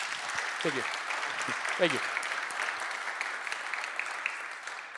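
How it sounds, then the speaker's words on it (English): Conference attendees at an open-source technology talk give a steady round of applause, a dense, moderately distant clatter of claps, while someone briefly speaks over it near the start. "can we get a quick round of applause?"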